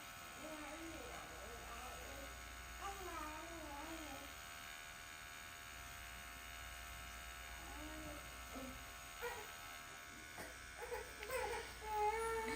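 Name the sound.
tattoo machine needle buzzing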